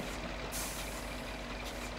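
A logging truck's air brakes hiss in Spintires: MudRunner, a loud, steady release of air over the rumbling engine.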